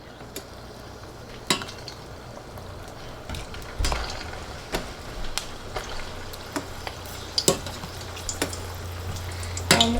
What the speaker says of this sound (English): And while they are frying, we are just going to wait until they are done frying.